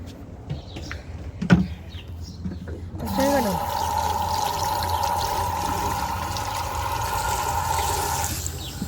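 Water pours steadily from a watering can onto freshly sown flower seeds at a home in Kuwait, a continuous trickling stream that starts after a brief stretch of quiet handling noises and runs evenly for several seconds before stopping.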